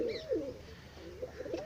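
A pigeon coos close by in a few soft, throaty phrases, alone with no talk.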